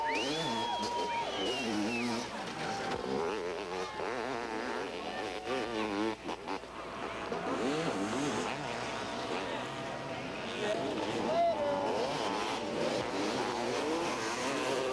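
Motocross dirt bikes racing at the 1990 U.S. Outdoor MX Nationals in Washougal, Washington, on a rough, rutted, bumpy track: buzzing two-stroke engines rise and fall continuously beneath steady commentary and crowd noise.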